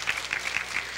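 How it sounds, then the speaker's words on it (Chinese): Brief burst of audience applause in a university auditorium as the crowd stands to thank a visiting lecturer at the end of a talk; moderately loud, close-packed clapping with a rippling rhythm. "大家起立再给文倩我们的老师一个最大的掌声好不好"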